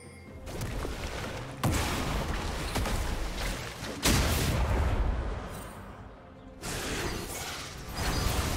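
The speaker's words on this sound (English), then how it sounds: "Red team's turret has been destroyed." A turret collapses in League of Legends, with loud crashing booms and whooshing bursts in several waves over steady game noise, sharp hits near the start and middle.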